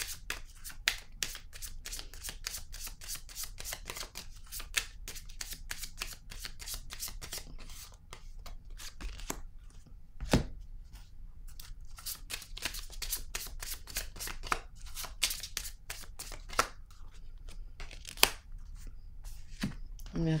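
Tarot cards are shuffled and drawn by hand at close range, giving a rapid, steady run of crisp riffling flicks and snaps that continues throughout, with soft speech faintly present at times.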